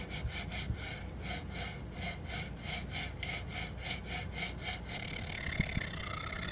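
A Zwilling Kramer Damascus chef's knife in SG2 steel is drawn back and forth across a 125 grit silver CBN sharpening stone, giving rhythmic, evenly spaced scraping strokes up close.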